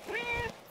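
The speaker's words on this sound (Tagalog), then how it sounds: "Ito yung malambing na pusa namin dito sa New Zealand guys." A pet cat in a New Zealand garden, where onions and shallots are being planted, gives a single short, soft meow that rises and falls, fairly quiet and close by, with no talking.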